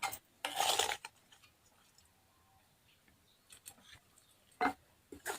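Fried dried red chili khuda scraped from a pan onto a plate, with a loud dense scraping burst near the start followed by quieter scattered clinks and a couple of short sharp scrapes toward the end.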